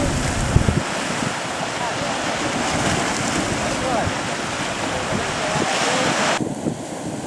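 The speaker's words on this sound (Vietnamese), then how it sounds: "Trời ơi, coi có lượng sóng kìa." Heavy sea waves crash and wash continuously around fishing boats out at sea in strong wind, with loud, steady wind buffeting the microphone throughout.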